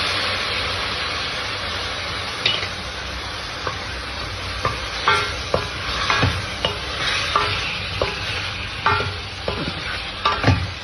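Chicken frying in hot oil in a pan, a steady sizzle broken by repeated scraping and clinking as a spoon stirs the pieces, close and fairly loud with no talking.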